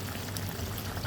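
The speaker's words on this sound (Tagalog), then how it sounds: "Tapos pinakulo ito ulit." Fish stew with coconut milk bubbles at a steady boil in the pot, a soft, continuous bubbling hiss heard close up and alone.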